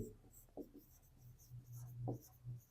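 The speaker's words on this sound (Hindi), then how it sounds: "तो हम लिखेंगे" Pen strokes on paper while a math problem is worked out, faint scratchy bursts coming in short irregular strokes against a quiet background.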